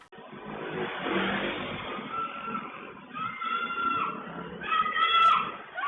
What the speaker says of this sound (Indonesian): Terdengar suara jeritan korban sambil bebes pelaku ke arah pucuk Jeramba.